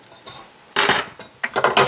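Cannoli shell dough being mixed in a bowl gives sharp scraping and clinking strokes of a utensil against the bowl, a few irregular bursts separated by brief pauses.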